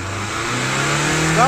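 A 2003 VW Polo 1.9 SDI diesel engine revving, a steady mid-pitched drone that builds in loudness and pitch toward the end, with a voice talking over it.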